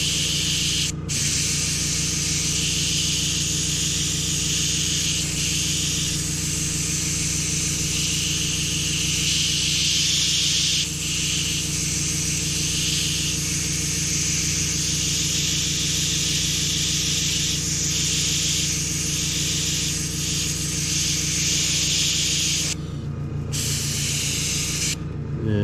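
A spray gun lays red stripes onto a vintage Harley-Davidson gas tank, a loud continuous airy hiss running almost unbroken over a steady low compressor hum, with one brief pause near the start and another near the end.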